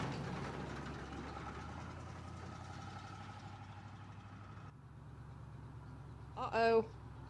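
A Chevrolet Impala's engine idles with a low, steady rumble that shifts slightly partway through, and a brief louder burst comes near the end.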